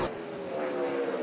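NASCAR stock cars racing at Richmond, a steady loud roar of engines from the pack running close together on the track, with no break in the sound and no talk.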